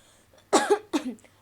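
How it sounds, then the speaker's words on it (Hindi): A person with a bad sore throat coughs twice in quick succession, close and loud, each burst a short harsh bark with a quieter tail, over a quiet room. "थोड़े दिन तक आपको खांसी भी टॉलरेट करनी पड़ेगी लेक्चर के साथ"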